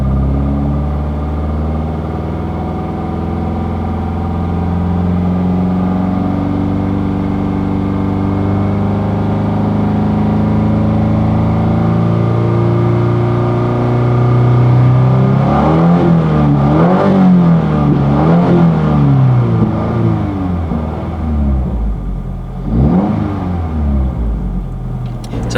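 A 2022 Subaru WRX fitted with an AWE Touring catback exhaust holds a steady, loud idle, then is blipped through several quick rising and falling revs before dropping back, recorded close up without speech.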